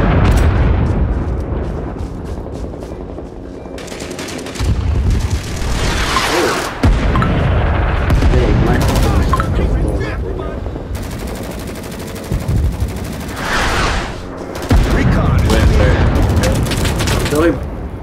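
Artillery and gunfire in the video game Rising Storm 2, with continuous loud bursts of automatic fire, heavy booms and blasts layered densely throughout, with voices talking over the battle.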